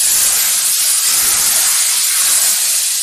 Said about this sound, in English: Now let us add the oil.